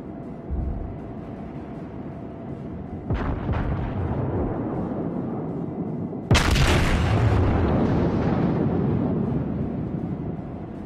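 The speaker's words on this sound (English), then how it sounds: "I just like the cannon, the noise, you know," Naval cannon fire in the World of Warships video game: two heavy booming shots, the second louder with a long rolling decay, over a continuous low battle rumble.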